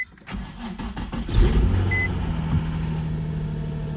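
A Nissan 350z engine cranks with a few quick stutters, catches and roars up, then settles into a steady, fairly high idle hum near 2,500 RPM nearby.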